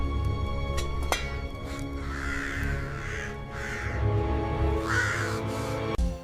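Crows cawing in a short intro, three or four loud harsh caws spaced across several seconds over a steady background bed, with no talking.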